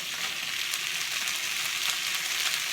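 Frozen cabbage frying in a pan for stir-fried rice, a steady dense sizzle and crackle throughout, close and constant with no talking.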